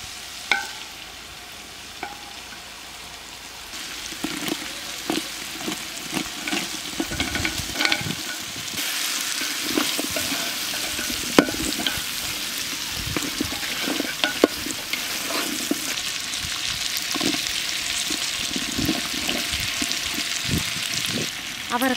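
Garlic and vegetables frying in a pan for millet sambar: a loud, continuous sizzle that swells after a few seconds, with irregular stirring scrapes and clatter throughout.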